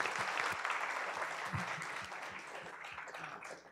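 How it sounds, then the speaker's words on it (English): Applause from the audience at a colloquium, greeting the panel guests as the panel ends. Full, sustained clapping at moderate distance fades gradually, with a few sharper claps standing out. "Let's give our guests a round of applause"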